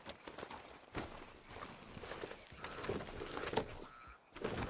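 Horse hooves clop in a steady walking rhythm while riding in Red Dead Redemption 2, soft and moderately close against faint outdoor game ambience.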